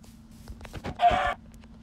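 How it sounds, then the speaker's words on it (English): Chickens in the video game Minecraft give a few short clucks in quick succession, ending on a louder, fuller squawk before quiet returns. "Double chicken?"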